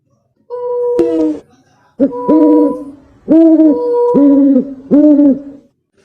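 Voices imitate an owl's hoot, giving several tonal hoots in a row with short pauses, close and clear.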